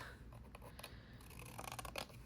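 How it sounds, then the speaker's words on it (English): Scissors cut a bow off a gift card holder in a few quiet, close snips and crisp crunches of paper, with faint rustling between the cuts. "So just cut that bow part off and leave this little top tab here."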